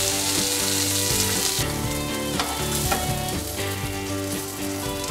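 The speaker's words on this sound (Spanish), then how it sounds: "A que se terminen de freír un poquito más" Asparagus sizzles steadily in a hot pan alongside lemon-seasoned salmon, a continuous close frying crackle with no voices.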